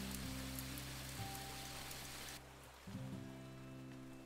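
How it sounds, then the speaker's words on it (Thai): Heavy rain falls steadily as a soft, dense hiss over a low hum and tonal drone, with a brief break partway through, no voices. "ฝนตกหนักมากเลยล่ะ"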